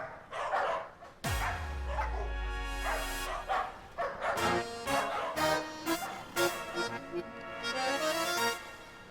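A dog barks repeatedly in an uneven run of sharp, loud barks, with one long whining yelp near the start and some yips, heard close and alone.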